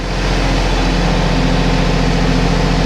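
A small engine on a weeding machine runs steadily at high revs, loud and close, with a slight rhythmic wavering in its pitch throughout.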